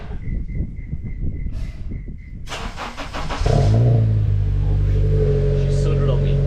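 A Honda CR-V with a K24Z1 engine and a gutted catalytic converter starts and revs, a loud, raw rumbling drone that holds steady after a burst of noise, with voices heard early on.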